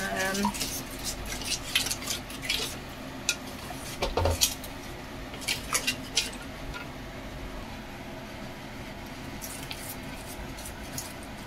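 A utensil scrapes and clinks against a pot while puto maya mixture with salt and coconut milk is stirred, soft irregular knocks and scraping close by, fairly quiet.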